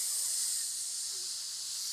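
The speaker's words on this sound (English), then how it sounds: "And it is hissing, so that means that it was painful to be, branded on him." A brand burning onto an arm in an anime scene gives off a loud, sustained steam-like hiss that fades slightly over two seconds, with no voices.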